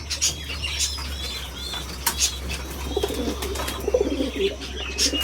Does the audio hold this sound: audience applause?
no